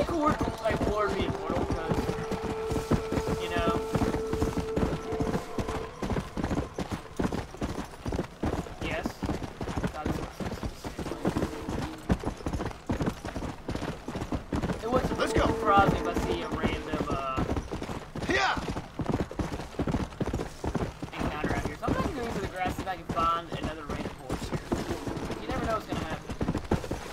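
Steady clip-clop of horse hooves trotting in Red Dead Redemption: Undead Nightmare, mixed with music and sound effects, with voices talking over it throughout.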